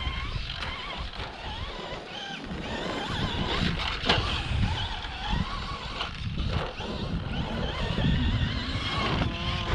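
A Traxxas Stampede RC truck runs on a track, its motor whine and tire noise steady and fairly loud throughout, with brief louder bursts as it accelerates and bounces over the surface.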